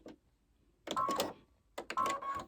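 An embroidery machine stitches around a mouse applique on fabric, its needle whirring in two close, loud bursts of rapid mechanical chatter separated by a brief lull, with no voices.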